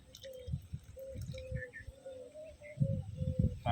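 Water poured onto the soil of a guava plant air-layer graft, making soft, close dripping and trickling sounds, with a faint steady tone behind it.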